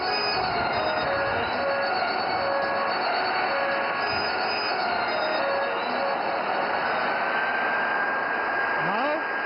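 Jet aircraft flying manoeuvres at the Aero India 2025 air show at Yelahanka Air Force Station, a steady loud roar with a high whine that holds throughout while an announcer speaks over it.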